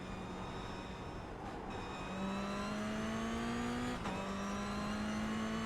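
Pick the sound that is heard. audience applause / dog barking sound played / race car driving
race car driving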